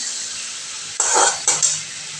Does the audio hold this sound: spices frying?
yes